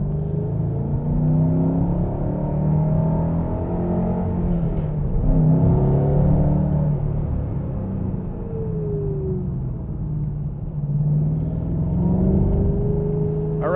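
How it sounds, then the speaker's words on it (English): 2014 Shelby GT500 Track Pack (S197) heard from inside while driving, a steady low engine rumble and drone with gentle rises and falls in revs, continuous and fairly loud, no one talking. "We'll go for a drive in the GT500 right now."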